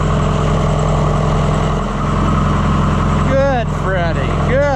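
An Oliver 1450 tractor engine runs at a steady idle, a loud even rumble close by throughout, with a voice briefly over it near the end.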